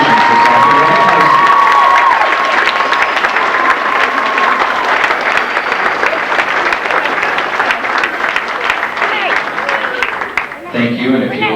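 A school crowd gives a big round of applause for the class of 1992–1993 at a Southfield-Lathrup High School event, dense clapping and cheering filling the room steadily before tapering off near the end.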